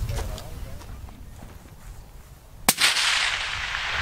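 Rifle shot at a long-range shooting school, a single sharp crack followed by a rushing report that carries on, heard outdoors amid wind and people talking.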